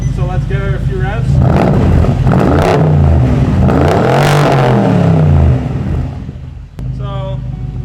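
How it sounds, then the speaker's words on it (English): Revving V8 of a BMW E71 X6 50i after a warm start, loud and close, with several rising and falling throttle blips that settle back toward idle. "It's not cold, so let's give her a few revs."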